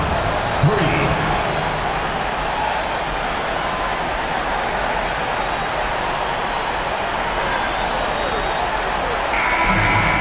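A basketball arena crowd at a Portland Trail Blazers vs Golden State Warriors NBA game, cheering and applauding in a sustained, roaring wash of noise with a few brief sharp accents.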